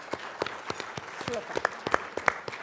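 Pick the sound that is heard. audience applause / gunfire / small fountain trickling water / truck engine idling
audience applause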